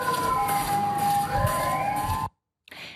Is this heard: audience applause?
no